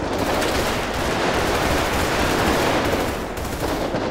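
Rapid gunfire in the GTA 5 video game, dense bursts of automatic shots firing almost continuously and loudly for several seconds with no break.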